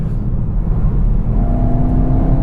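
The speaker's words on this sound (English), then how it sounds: "get that strong 4-cylinder turbo engine singing" A Skoda Karoq's strong four-cylinder turbo engine revs steadily and loudly from the cabin, a continuous low rumble with a rising tone partway through and no talk over it.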